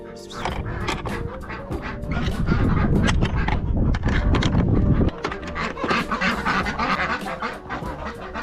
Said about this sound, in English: They're called Aylesbury's, that's the breed of them ducks.